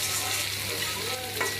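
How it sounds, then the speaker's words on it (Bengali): Chopped onions fry and are stirred in a pan for a meat curry made with little oil. A close, steady sizzle carries through, with a brief scrape of stirring near the end and no talk. "পেঁয়াজ কুচিটা দিচ্ছি ভাজতে।"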